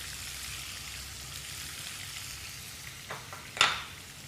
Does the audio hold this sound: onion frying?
yes